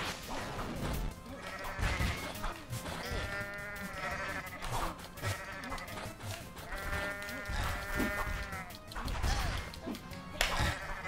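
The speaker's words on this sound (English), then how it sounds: "Why does it keep making goat noises?" Repeated goat bleats from a video game, wavering cries recurring over busy game sounds and crashes, loud and close.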